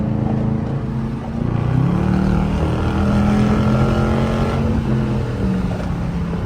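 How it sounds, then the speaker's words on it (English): A Dodge Charger R/T's loud aftermarket exhaust, heard from inside the car, gives a deep, continuous rumbling drone that swells as the engine revs up and then settles. "I'm gonna let y'all hear this exhaust a couple more times"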